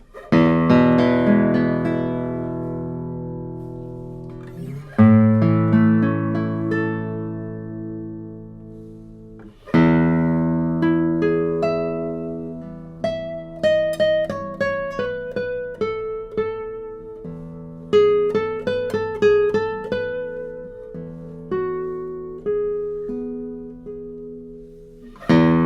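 A 2005 Antonio Marín Montero Spanish guitar from Granada rings out with strummed and plucked chords, several full chord attacks followed by arpeggiated notes that ring and decay, heard close and alone.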